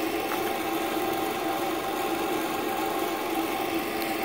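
Tractor engine running steadily in old film footage, a continuous mid-pitched drone with a gritty, noisy texture and no pauses, fairly close and alone without talk.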